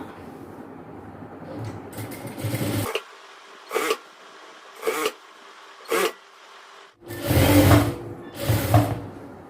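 A sewing machine stitches the seam of palazzo pants, starting with a steady whirring run. Short, close bursts of stitching follow with pauses between them, and the clip ends with two longer, louder runs.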